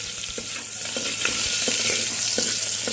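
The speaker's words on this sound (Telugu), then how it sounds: "ఆనియన్ వేసి బాగా కలిపి వేసుకున్నాం." Onions fry in a pan as they are stirred, a loud, close, steady sizzle with regular spoon scrapes against the metal, no voices.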